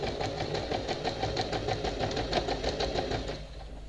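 A sewing machine stitches a tuck on the back part of a princess-line blouse, a fast, even mechanical whir with rapid needle ticks running steadily before easing off near the end.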